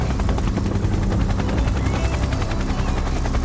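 An Indian Air Force helicopter runs on the Siachen helipad, its rotor chopping in a fast, steady, loud pulse with heavy low engine rumble throughout and no pauses.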